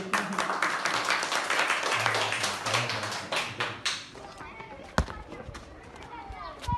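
Applause at a Hatay event about library support for students, a dense run of claps filling the first four seconds, then thinning out into a few scattered taps and a sharp knock as the room quiets.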